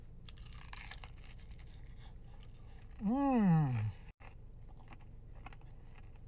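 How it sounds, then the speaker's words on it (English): Crunchy bites into crispy fried chicken, Maryland style, with a loud crackling bite in the middle between quieter chewing, and a brief appreciative hum. "That's got a delicious crunch to it."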